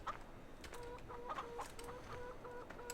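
Several chickens in the video game Farming Simulator 2013 cluck softly and repeatedly in short bursts, with occasional higher squawks, at a low, even volume.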